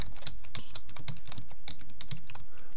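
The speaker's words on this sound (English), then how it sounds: "So go ahead and type bootstrap.bat." Crisp keystrokes on a computer keyboard entering a short command at a Windows prompt, a quick run of about a dozen evenly spaced clicks, close and clear with no talking.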